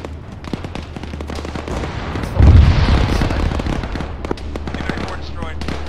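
A T-34 tank blown up in Arma 3 urban combat: one heavy, booming explosion lands mid-clip amid constant crackling gunfire, with voices talking over the battle.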